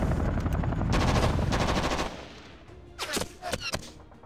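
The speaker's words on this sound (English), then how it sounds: "We're receiving some anti-aircraft fire." Bursts of anti-aircraft fire from the war game JTS Modern Campaigns Fulda Gap 85: rapid, loud rattling volleys for the first two seconds, then a quieter stretch broken by a few sharper, separate shots.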